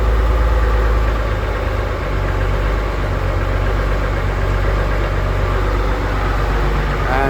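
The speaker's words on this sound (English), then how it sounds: "It's stalling. You can hear the stalling." Engine stalling as its RPM is lowered slowly, a loud steady idle rumble throughout that dips and labors without stopping, with no voices.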